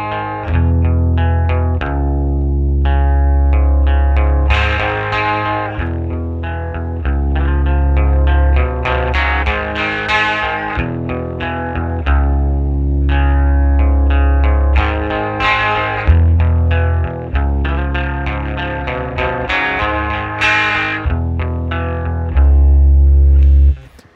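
A 1974 Fender Mustang electric guitar played through a Fender Quad Reverb amp, a sustained melodic passage of chords and single notes with effects-laden chorus and light distortion, loud and continuous with no talking.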